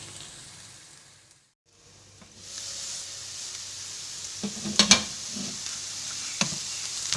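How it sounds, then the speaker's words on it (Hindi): Onions frying in oil until lightly golden, a soft continuous sizzle close by with a short quiet gap early on, then a few sharp spoon clinks against the pan near the end; no voices. "प्याज हमारे फ्राई हो रहे हैं, बस हल्का सा गोल्डन करना है हमने"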